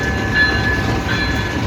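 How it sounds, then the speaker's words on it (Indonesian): The Majapahit passenger train rolls past close by with a loud, steady rumble, a faint high metallic squeal, and no talking. "Kereta apa ini? Majapahit."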